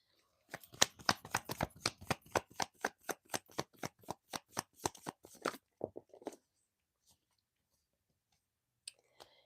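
Tarot cards being shuffled for a reading: a rapid run of about twenty crisp riffling flicks at a steady rhythm, close and clear, then a few softer handling rustles and near silence with one faint tap.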